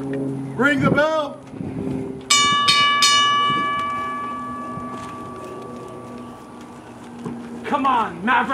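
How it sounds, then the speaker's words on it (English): Ring bell clangs several times in quick succession at the start of a wrestling match, its metallic ring decaying over a few seconds, with a commentator talking before and after. "Ring the bell."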